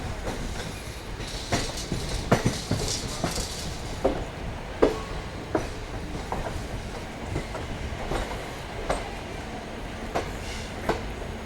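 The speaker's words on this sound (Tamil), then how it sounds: "ஆன் டைமில் உள்ளே வந்திருக்குங்க வண்டி." A passenger train pulls into Erode Junction, wheels clattering over rail joints in a steady clickety-clack with sharp metallic knocks and faint squeals, heard from on board with no talking.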